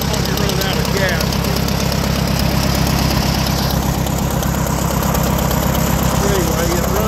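A 1934 Allis-Chalmers M crawler's engine runs loud and near with a steady rough chugging idle and knocking vibration, occasionally sputtering as if low on fuel, while a person talks over it.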